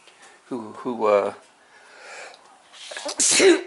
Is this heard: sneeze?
yes